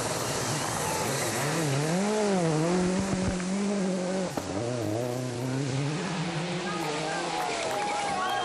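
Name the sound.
rally car driving through deep muddy ruts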